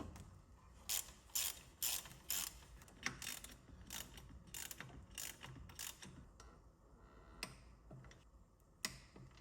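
A hand ratchet tightens the bracket bolts for a Procharger supercharger kit on a 3V Ford Mustang, clicking in quick irregular bursts of sharp metallic ticks. It is close and fairly quiet, with no talking.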